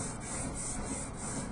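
A fingernail rubs back and forth along an origami paper fold, making a close, continuous dry scraping with a faint rhythmic swish.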